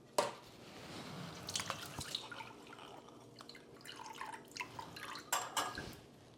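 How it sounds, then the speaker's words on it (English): Soaked raisins drain for Irish soda bread as water drips and trickles close by, with a few light clinks of a strainer or bowl and no talking. "now we're going to add our raisins, but first we're gonna drain them."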